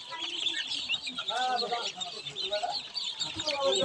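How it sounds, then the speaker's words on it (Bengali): Many Campbell ducklings peep continuously in a dense, close chorus of high chirps with no break, and a voice speaks faintly beneath them. "এই ক্যাম্বেল হাঁসের বাচ্চা দেখছেন।"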